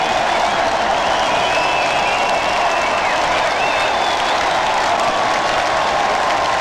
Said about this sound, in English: A kiss, which receives a roar of approval from the crowd